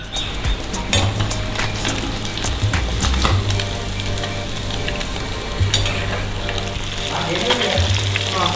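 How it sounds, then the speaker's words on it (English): Small lake fish frying in a pan at a Sri Lankan home kitchen, a loud, steady hissing sizzle close by with occasional clinks and stirring sounds throughout. "we're starting the second dish, which is going to be a fried lake fish"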